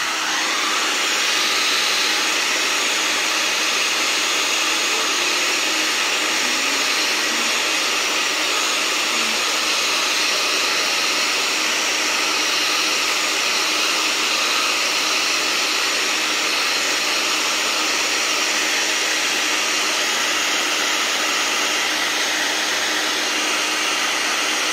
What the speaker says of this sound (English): I've got my trusty hairdryer.